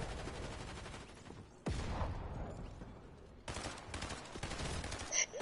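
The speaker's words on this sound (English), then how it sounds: "this charge SMG sucks" Rapid bursts of charge SMG fire in Fortnite, crackling in dense volleys that cut off abruptly and start again, fairly close and loud with no talking.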